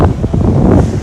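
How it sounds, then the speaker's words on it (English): Strong wind on a cruise ship deck roars steadily across the microphone, a loud buffeting rush with low rumble, no voices. "Windy wind."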